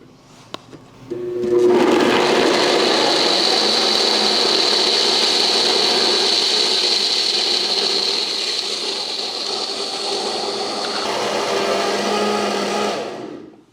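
A blender starts with a click and runs loudly at a steady whir for about eleven seconds, then winds down, blending chickpeas and water.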